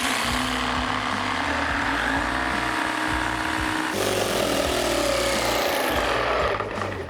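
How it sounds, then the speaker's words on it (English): A Festool battery-powered jigsaw cuts through wood in a steady, dense buzz that runs almost unbroken from start to end, loud and close, shifting slightly in pitch midway as the blade works through the board. "Let's use the same blade, same stuff, and just see how the Festool goes."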